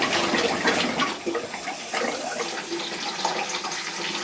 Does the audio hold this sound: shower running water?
yes